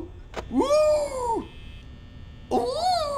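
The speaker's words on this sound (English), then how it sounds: "That's the cat." A cat meows twice, loud and drawn out, with a pause between the calls, during a Five Nights at Freddy's game, while a voice briefly exclaims in surprise.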